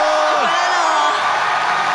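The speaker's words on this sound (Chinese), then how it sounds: "热情的掌声！" A studio audience at a Tibetan TV variety show whoops and cheers as competing teams are introduced, a loud, dense crowd roar that holds steady for two seconds.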